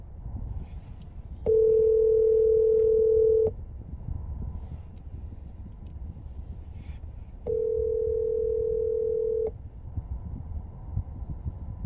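A telephone rings out while someone is being called: two long, steady tones of about two seconds each, separated by a pause, over faint background noise.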